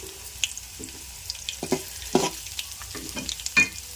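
Garlic, split lentils and fenugreek seeds frying in hot oil in a pan, a steady close sizzle broken by several stirring scrapes and clinks, with no talking.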